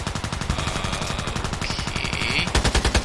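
Rapid automatic gunfire from the online shooter game Contract Wars, a dense rattling burst of evenly spaced shots close up, ending in a few heavier thumping rounds.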